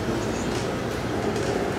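A fast train in Taiwan rushes past in a continuous loud low rumble and roar of wheels on rail, steady throughout without talk.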